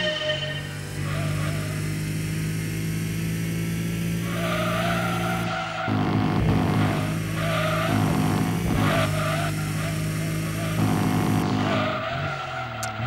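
A race car in Gran Turismo 2 corners hard, its engine droning steadily while tires squeal and skid through long stretches, loud and continuous with brief shifts in pitch as it slides.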